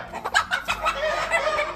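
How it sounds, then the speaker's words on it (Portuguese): Ameraucana chickens, the breed that lays blue-toned eggs, cluck in a series of close, fairly loud calls on a small farm, with no talking. "a criação das galinhas ameraucanas"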